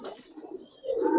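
A pair of Giribaz tumbler pigeons coo close by in a short, low throaty phrase, rising again at the end, with no talking.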